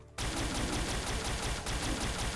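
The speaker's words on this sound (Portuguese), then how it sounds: "vamos finalizar ele com a arma alienígena" An alien weapon in a zombie-mod video game fires in a rapid, continuous burst after a brief quiet start, loud and close, with rhythmic pulsing and a short break partway through.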